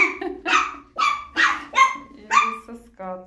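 Chihuahua puppies at a kennel bark and yip in quick, close, repeated bursts while playing, ending with a higher whine-like yelp.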